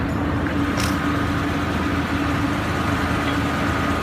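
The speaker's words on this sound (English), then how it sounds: "she's going to operate the motor" A field winch motor running steadily, a loud, constant low rumbling drone with even engine noise throughout and a faint brief click partway in, heard close up with no other sounds over it.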